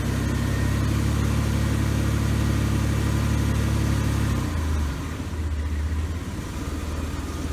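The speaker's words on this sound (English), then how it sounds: "Now we're going to rev the motor." A car engine runs under electrical load during a battery test, holding a steady loud drone before the revs drop and settle back to a lower, quieter hum partway through.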